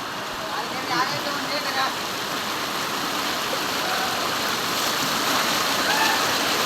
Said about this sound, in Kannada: ಫುಲ್ಲು ನೀರು ದಬಾಯಿಸಿ ಹೊಂಟದ